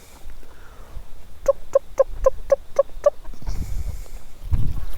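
A little white hen clucks in a quick, even run of about seven close, clear notes, set against outdoor rustling and low background noise.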